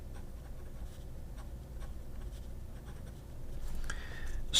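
A Colorverse dip pen scratches across paper in quiet, faint strokes, a soft papery rasp building slightly toward the end with no voices.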